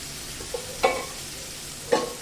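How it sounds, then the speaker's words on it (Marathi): Boiled cluster beans (gawar) are stirred into a pan of sizzling seasoning, with two distinct scraping clatters of the spoon over a soft, quiet background sizzle. "ही उकडलेली गवार याच्यामध्ये घालूया"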